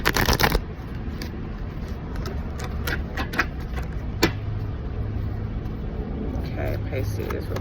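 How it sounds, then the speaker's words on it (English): Tarot cards are shuffled by hand in a steady series of soft riffling flicks, close up, over a low hum of background noise. "I'm going to do a couple more shuffles"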